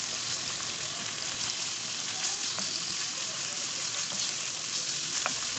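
Marinated chicken fries in a pan, giving a dense, continuous crackling sizzle with faint scrapes and occasional pops, close and even throughout with no voices.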